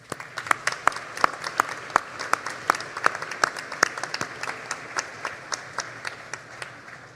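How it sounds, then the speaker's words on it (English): At a college spring graduation ceremony, the audience gives a round of applause: distinct individual claps ring out over a softer crowd wash, loud at first and thinning out toward the end. "Please join me in thanking them with a round of applause."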